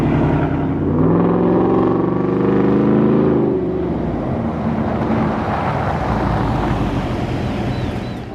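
Ford F-150 pickup truck driving, its engine droning loudly from inside the cab, rising in pitch as it accelerates and then settling into a steady road rumble mixed with wind noise.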